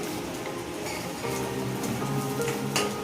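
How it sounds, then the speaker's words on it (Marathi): Ground dry coconut masala sautés in oil over a low flame, a soft, quiet crackle and sizzle with scattered pops and a brief sharper spatter near the end. "आता आहे ना हे चांगलं तेलामध्ये आपण परतून घेऊया"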